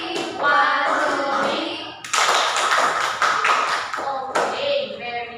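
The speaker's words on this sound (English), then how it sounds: "let us give them a Kalapati clap" A class performs a Kalapati clap together, bursts of many hands tapping and clapping in a rhythmic pattern, with a short counted cue spoken between the bursts.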